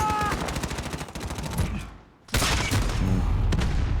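Dense, loud automatic gunfire rattles in rapid bursts during Call of Duty: Modern Warfare play, cuts out for a moment, then resumes in heavy overlapping volleys.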